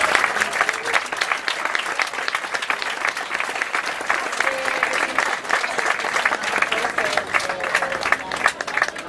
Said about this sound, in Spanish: vamos a darnos todos un fuerte aplauso porque nos lo merecen